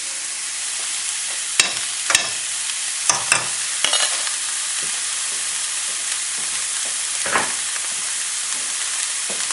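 Diced onion, green pepper and fresh garlic sauté in a little oil in a pan for chicken etouffee, giving a loud, steady close sizzle with a few sharp spoon scrapes and taps, and no talking.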